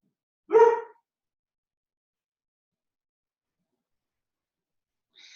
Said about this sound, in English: The dog's going to bark some more.